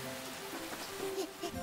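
Cartoon rain falls in a steady soft patter on a picnic campsite, a brief quiet wash of drops with faint tonal hum underneath.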